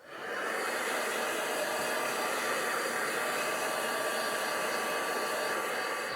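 A dryer blowing hot air to dry a mixed media paper print, a loud constant whooshing hiss that starts abruptly and holds steady throughout, no talking.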